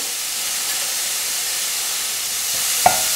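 Onions sauté with ginger garlic paste and fennel seeds in a pan, giving a steady, even hiss of frying with one sharp clink near the end.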